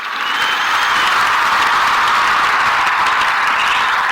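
Loud, dense applause from a small group at a Bible study gathering, sustained evenly for about four seconds with no talk over it.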